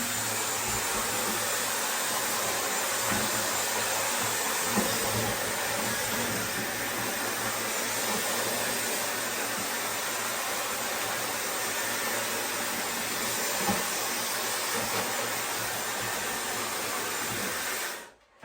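A hair dryer runs on its highest air and highest heat setting while blow-drying hair, giving a steady, loud, continuous whoosh for the whole stretch that cuts off abruptly at the end, with no talking.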